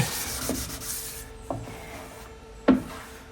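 Hand sanding on a body panel of a '32 Coupe under paint and body repair. Soft, dry rubbing strokes sound close and fairly quiet, with a few sharper scuffs near the end.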